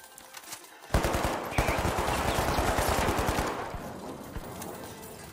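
A deployed turret in the shooter game The Finals opens up in rapid automatic bursts, a loud sustained rattle of gunfire that starts abruptly and tapers into scattered shots.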